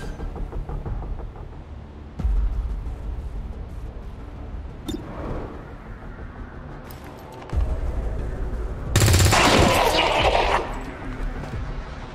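Video game combat audio with heavy impacts and sharp bursts of gunfire, a loud blast-like surge near the end, punctuated by knocks against a low rumbling background.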